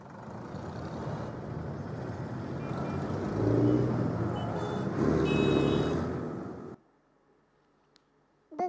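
Busy Mumbai road traffic roars continuously, a dense wash of engines and horns that swells in the middle, then cuts off abruptly into near silence.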